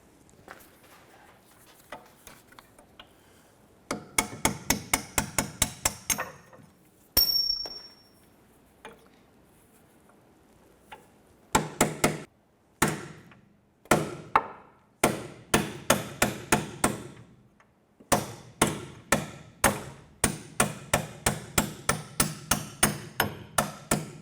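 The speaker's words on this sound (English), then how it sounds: "we're going to use a small punch, and we'll get that in the back side of that and tap those through" A small punch is hammered against strut bolts on the rear strut assembly of a 2006-2013 Chevrolet Impala, fast bursts of sharp metallic taps with brief pauses between them and a single ringing ping, loud and close.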